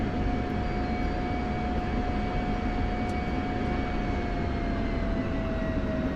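A simulated aircraft taxis in a flight simulator game, its engine giving a steady, continuous drone with a sustained whine on top, even and unbroken throughout with no voices.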